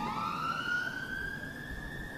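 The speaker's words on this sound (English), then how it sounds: "Waits for the ambulance to go past" Ambulance siren passing near a cricket ground during a match, a steady rising wail that holds through the whole stretch, fairly loud and clear with no talk over it.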